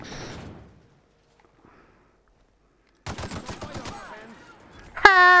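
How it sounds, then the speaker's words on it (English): Gunfire at a marauder in The Outer Worlds, a sudden burst of rapid, loud shots after near silence, followed by a brief sharp ringing tone, with faint speech at the very start. "But I shot a marauder in the arse."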